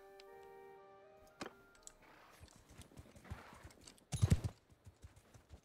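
Horse hooves clatter in a galloping rhythm during a Mount & Blade: Bannerlord battle, a steady patter with a loud burst of impacts near the end, no voices over it.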